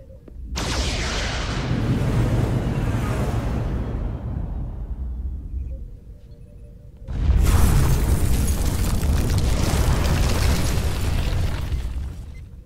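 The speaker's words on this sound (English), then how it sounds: "Fire on the Pawtucket!" Weapons fire and explosions striking a ship in the Star Trek Resurgence video game: a loud booming blast that rumbles and fades over several seconds, then a second heavy explosion with sustained roaring debris noise.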